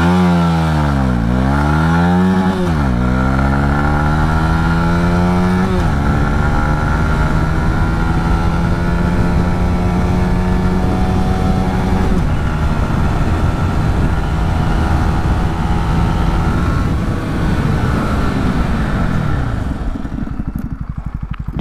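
Honda CB125R motorcycle accelerating hard from a standstill to 100 km/h, its single-cylinder engine revving up through several gear changes with falling pitch at each shift, then holding a steady high-speed drone before easing off; loud and close, no talk.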